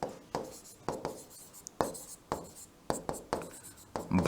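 Chalk or marker strokes on a classroom board, a series of short scratchy bursts in irregular rhythm, close and fairly clear with no talking over them.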